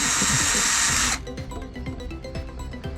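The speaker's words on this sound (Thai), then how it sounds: "เจาะไปเรื่อยๆครับ" Electric drill boring into PVC pipe while building a spring-recoil PVC gun, with a loud high whine for about a second that drops to a rougher, lower grinding rattle.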